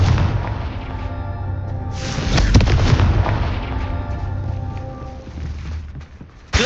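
Confringo fire spell explosions in Hogwarts Legacy, a loud dense barrage of booming blasts and crackling bursts that swells midway, with a sharp impact near the end.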